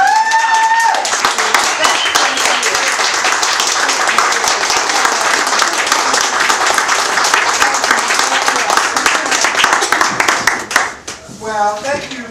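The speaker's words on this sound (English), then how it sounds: "We're going to stand up and we're going to give a whole round of applause." A crowd at a book signing claps loudly and continuously in a dense, steady burst of applause, which fades toward the end as a voice begins speaking.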